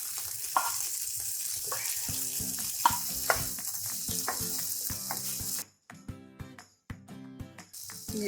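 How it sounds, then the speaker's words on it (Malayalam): Cooked mutton liver drops into an onion-tomato masala, which sizzles loudly and steadily while a spoon clinks and scrapes against the pan. The sizzle briefly drops out near the end, then returns with a few sharp knocks. "ഇനി നമുക്ക് വേവിച്ച് വെച്ചിരിക്കുന്ന"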